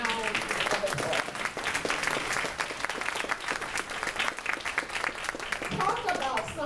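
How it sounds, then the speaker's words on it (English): An audience gives a warm round of applause for Lunel Britt at a community gathering on reducing poverty in St. Pete, steady clapping from many hands filling the room with brief moments of voices mixed in. "Let's give her a round of applause."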